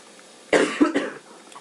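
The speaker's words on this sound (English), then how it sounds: "Excuse me if I do cough and snivel a bit." A short burst of close coughing, two or three quick hacks in a row, with no talking around them.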